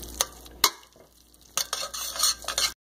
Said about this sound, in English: Stir the cheese. The macaroni gets nice and cheesy.